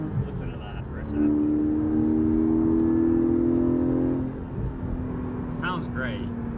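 A Porsche Cayman GTS 4.0 engine rises in a smooth rev from behind the cabin, heard from inside the car, swelling for a few seconds and then dropping back, with people talking around it.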